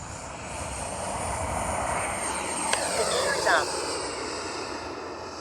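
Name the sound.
FlyFans Baltic Bee RC jet flying overhead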